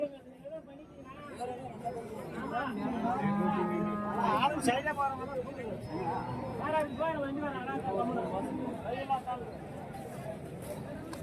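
Native cattle calves at a livestock market in Krishnagiri district, Tamil Nadu, moo now and then amid steady crowd chatter and nearby voices, with the animal calls fairly close but partly under the talk.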